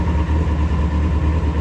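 A Citroen Saxo engine idles steadily through its exhaust inside a tunnel, a loud, continuous low drone with no pauses.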